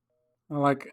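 A short, thin telephone tone from the Silent Hill 3 video game sounds briefly and faintly after a call, followed by a voice speaking.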